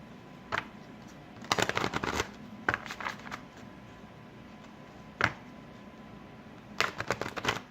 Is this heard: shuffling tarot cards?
yes